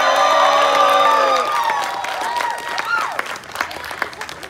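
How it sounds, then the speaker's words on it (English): Crowd at a renaissance festival circus show cheering and clapping, with whoops and shouts that peak early and then fade into scattered claps and voices. "applause"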